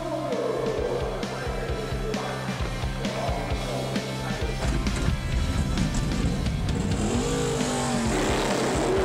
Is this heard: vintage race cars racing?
yes